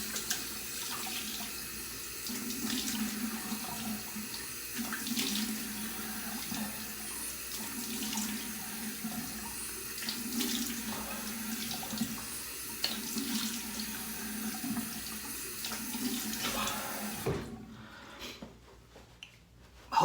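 Tap water runs into a sink during a shave as water is splashed onto the face, a steady close splashing and trickling for most of the stretch before the flow stops and near silence remains.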